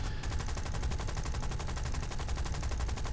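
A Lancaster bomber's gunner firing on a P-51 in a realistic-battle video game, with rapid, evenly spaced machine-gun fire in one unbroken, loud burst from start to finish.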